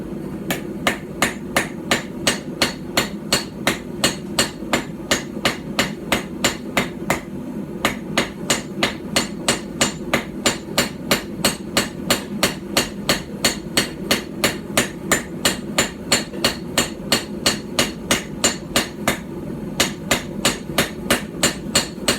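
Hammer forging bevels on a steel blade over an Anglo-Saxon/Viking-style stump anvil: a long, steady run of sharp, ringing metallic strikes about twice a second, close and loud, with no talk.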